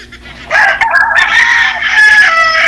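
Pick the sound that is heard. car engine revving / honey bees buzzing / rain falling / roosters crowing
roosters crowing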